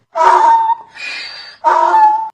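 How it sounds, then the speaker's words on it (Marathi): A donkey brays in three alternating pulses, two harsh loud honks with a thinner wheezing breath between them, near and with no other sound. "गाढवाचे ओरडणे"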